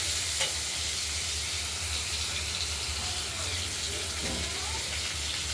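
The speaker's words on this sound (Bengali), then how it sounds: "এই রুই মাছগুলো কেটে ধুয়ে পিস করে নিয়েছি এবং নুন হলুদ মাখিয়ে কড়াইতে তেল দিয়ে আমরা ভেজে দিচ্ছি" Rohu fish pieces rubbed with salt and turmeric fry in oil in a wok, a dense, even sizzle holding steady throughout, close and loud with a low hum underneath and no speech.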